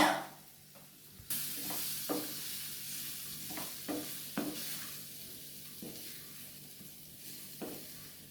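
Pieces of ragi-flour dumpling are stirred into a mustard seed tempering in a pan, with a quiet hiss of frying under repeated spatula scrapes and knocks against the pan and no voices.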